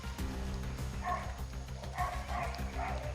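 A dog brought along by people searching outdoors gives a few short yipping barks, several quick bursts over a steady background rumble, fairly close and moderately loud.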